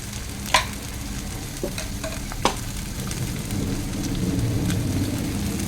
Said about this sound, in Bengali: আর হলুদ দিয়ে দিলাম। এবার হালকা ভেজে নেব।